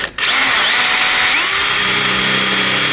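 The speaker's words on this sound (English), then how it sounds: "Now, I'm going to use my small drill bit." A small drill bit bores into a window during a window installation, giving a close, loud, steady high whine that runs alone after a brief start.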